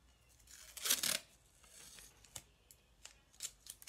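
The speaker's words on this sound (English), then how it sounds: "I'm gonna tear my tape" A strip of masking tape is ripped off the roll in one quick, close tearing burst, followed by a few faint crinkles and small handling ticks in a quiet room.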